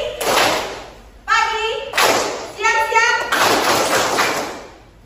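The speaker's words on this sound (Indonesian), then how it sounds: "tepuk tangan" Children in an Indonesian classroom guidance lesson clap in rhythmic bursts, sharp clustered claps alternating with their chanted words, close and fairly loud.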